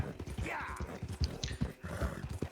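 Hooves of a White Arabian horse ridden by Arthur Morgan in Red Dead Redemption 2 clip-clop in a quick, steady rhythm at moderate distance, with faint breathy noise in the background.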